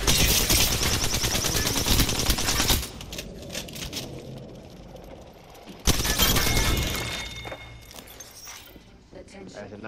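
Weapon fire and explosive bursts from a smart-bullet ability in the battle-royale shooter Apex Legends, loud and dense in two stretches separated by a quieter gap, with character voice lines heard alongside.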